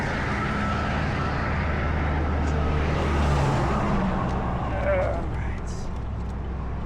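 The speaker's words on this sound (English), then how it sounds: "This last big truck coming over here." A big truck rumbles past on the road, its low engine drone swelling as it nears and then fading, against steady traffic noise.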